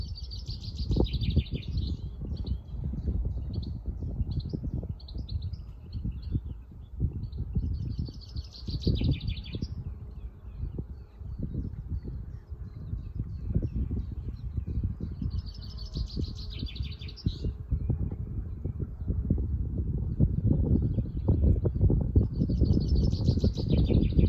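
Birds singing in bursts of bright chirping trills, repeating every few seconds over a steady low rumble of a 30-ton narrowboat cruising on a canal; no talk.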